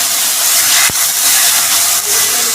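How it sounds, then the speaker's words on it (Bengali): Water hits a pan of frying masala with turmeric and sets off a loud, dense, continuous steamy hiss that fills the whole moment, close up, with a couple of brief dips. "একটুখানি জল দিয়ে নেব, জল দিয়ে মশলাটাকে ভালো করে কষে নেব।"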